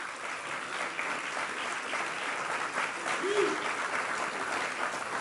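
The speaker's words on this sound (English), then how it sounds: "So give yourselves a round of applause." Graduates at an evening graduation ceremony of East Hartford Synergy give themselves a round of applause, a steady, dense wash of clapping from a large seated group that holds evenly throughout, with faint murmuring underneath.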